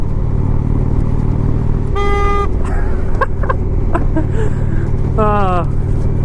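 Two short bursts of a thin, high-pitched horn honk from a 2017 Indian Springfield motorcycle over its steady idling engine rumble, close by and fairly loud.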